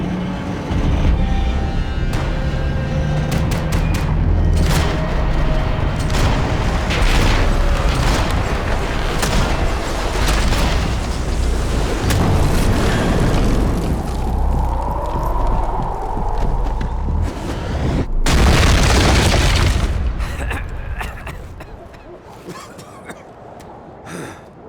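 Dense gunfire and explosions in a Max Payne 3 firefight, a loud continuous barrage of rapid shots, booms and debris with a big blast near the end before it thins out.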